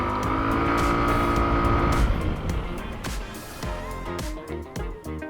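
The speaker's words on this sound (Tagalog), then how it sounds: "Ngayon, testing muna natin ang likod na preno." FKM Slick 150 motorcycle with ABS running around 30 to 40 while the rear brake is tested, a sustained engine drone that breaks into rapid pulsing and chattering bursts as the brake engages, with no talking.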